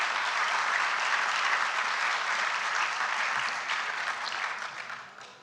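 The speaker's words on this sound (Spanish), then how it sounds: "un gran aplauso para él." Conference audience applauding in a dense, sustained burst of many hands, steady and full before fading out near the end, with no speech over it.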